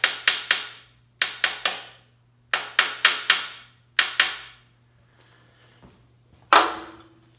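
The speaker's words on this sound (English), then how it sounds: "just gonna tap" A hammer taps a part during a 383 engine build, sharp metallic knocks in quick clusters of two or three, close and clear, with a final heavier strike.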